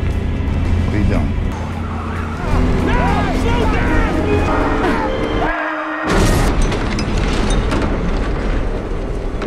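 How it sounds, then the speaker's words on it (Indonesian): A car slams into a street pole in a film scene: a sudden broadband crash bursts out right after a brief hush midway, set among steady music, engine rumble and spoken dialogue. "menabrakkan mobil itu pada tiang jalan hingga inilah yang terjadi"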